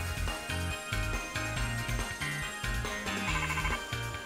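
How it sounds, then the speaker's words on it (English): A phone ringtone in Pokemon Scarlet and Violet, The Hidden Treasure of Area Zero, plays as a steady, loud, repeating melodic chime with a regular rhythm that fills the whole stretch. "I'm getting a call."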